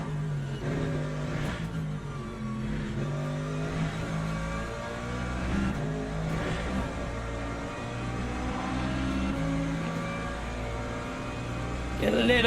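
Hypercars in the Le Mans Ultimate racing game at Bahrain roar past in a dense stream of engine drone and rising revs, staying loud and layered throughout, with a final surge at the end under occasional speech.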